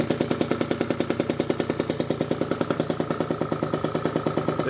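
A Gilera Runner scooter with a 172cc engine idling just after its first start: a fast, even, pulsing putter with a regular beat throughout, close and fairly loud, no voices.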